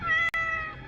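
A man imitates a cat with a single short meow, a nasal, tonal voice briefly broken by a gap, heard alone and close.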